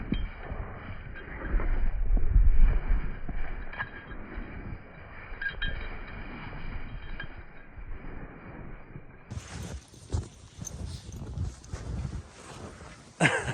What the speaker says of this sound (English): Super windy, cold day today.